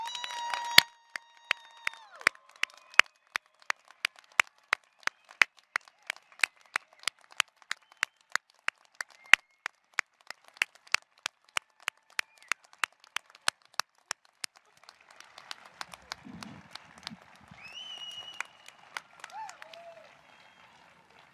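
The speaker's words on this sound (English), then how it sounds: "Please join me in another round of applause for our graduates." Scattered applause for graduates at the 2021 School of Arts & Communication commencement ceremony: sparse, sharp individual claps that thin out over time, then fade into faint room murmur near the end.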